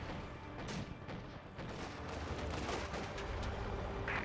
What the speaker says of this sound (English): Mortar looks to be hitting the MG42 rather shortly with a high explosive barrage